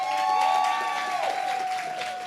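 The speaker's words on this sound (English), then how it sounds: "Won't y'all give him a hand of applause?" Audience applause and cheering at a poetry slam, a continuous wash of clapping from a sizable crowd, with a steady feedback-like tone ringing over it.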